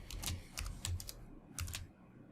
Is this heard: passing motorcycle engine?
no